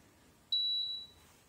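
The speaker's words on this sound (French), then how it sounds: "elle s'est mise à biper, ça c'est normal" Klarstein two-place-setting mini dishwasher giving a single clear electronic beep after its water tank is filled, a steady high tone lasting about half a second in a quiet room.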